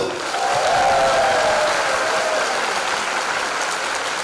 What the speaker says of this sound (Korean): 개인적으로 박수 한 번씩만 더 드릴게요